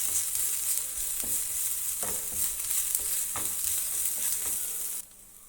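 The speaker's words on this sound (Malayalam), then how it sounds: "ഇതെല്ലാം കൂടെ ഒന്ന് നന്നായി മിക്സ് ചെയ്ത് കൊടുക്കുക." Mint and coriander leaves are stirred in a roasting pan over a constant bright sizzle, with several soft scraping strokes, before the frying noise suddenly drops away near the end; no speech.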